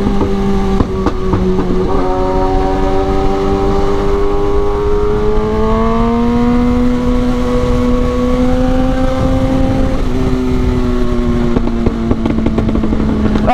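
A Kawasaki ZX10R motorcycle engine revs up and holds high on a city ride, with a loud, close rising whine broken by sharp crackling exhaust pops.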